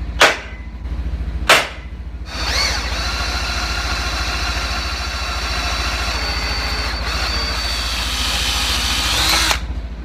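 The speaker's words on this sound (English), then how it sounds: "So we'll go ahead and use a battery operated drill." A battery-powered cordless drill boring a hole for a new door lock, with a couple of short trigger bursts followed by a long, steady, loud whirring run close by.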